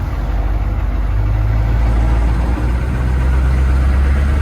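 A 1995 AM General Humvee military vehicle runs its engine at a steady, loud idle, a close, even rumble with no voices over it.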